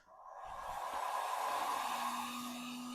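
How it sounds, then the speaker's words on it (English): A heat gun warms painted bodywork on a classic Mini during a rebuild, a steady, close blowing whoosh with a faint motor whine that starts abruptly and holds evenly. "Heat gun."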